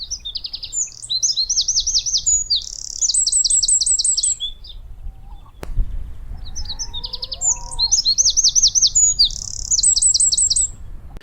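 A common garden bird sings two identical phrases, each a bright, rapid series of repeated high trills and notes, separated by a short pause, close and clear over faint low background rumble.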